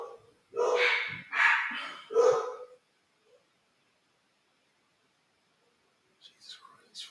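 Dogs barking nearby in three loud, closely spaced bursts, followed by a long quiet stretch and a few fainter sounds near the end.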